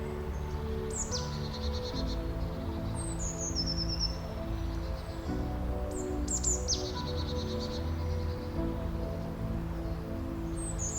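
Bright, falling bird chirps recur every couple of seconds against a constant hum of crickets and insects with faint leaf rustle, the calls close and distinct, with nobody speaking.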